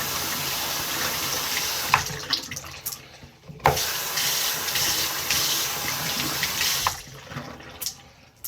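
Tap water runs steadily into a sink while hands are washed, a close, continuous hiss and splash broken by a few brief pauses and sharper splashes as the flow is interrupted.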